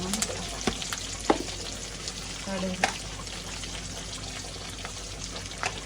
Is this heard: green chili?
yes